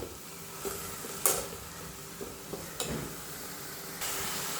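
Green chillies and onion cooking in a pan for a drumstick-leaf and egg stir-fry: a soft steady sizzle with a few sharp scraping stirs and clinks, fairly quiet and close, no talking.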